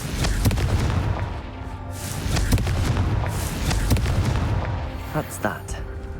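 Fiery Confringo blast spell in Hogwarts Legacy, a video game, with loud booming explosions and crackling impacts bursting repeatedly through a dense game mix, voices present.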